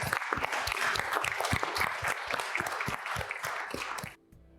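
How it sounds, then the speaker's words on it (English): Audience applause after a podcast session conversation, dense sustained clapping from a crowd at close range that cuts off abruptly near the end. "Let's just do a round of applause."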